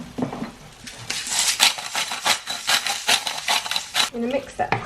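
Chopped tomatoes with salt, pepper and smoked paprika are stirred in a pan, with a spoon scraping and clinking in quick, uneven strokes and soft sizzling beneath.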